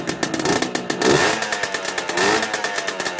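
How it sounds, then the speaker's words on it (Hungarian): A Simson moped engine revs during a cold start, its two-stroke popping rising and falling in quick uneven bursts, close and loud with no talk. "Járatós a motor. Kicsit még hideg."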